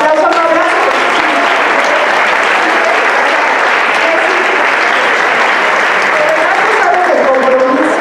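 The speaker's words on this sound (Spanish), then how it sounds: "Yo pido un abrazo, un fuerte aplauso, no abrazo." Loud, continuous applause from an audience at a ceremony honoring Jewish community volunteers, a thick wall of clapping with faint voices showing through near the start and end.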